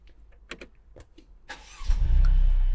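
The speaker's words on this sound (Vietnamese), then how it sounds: "khi em nổ máy lên" A few clicks and taps, then the engine of a 2015 Mercedes C300 AMG cranks and catches, settling into a steady, loud idle rumble.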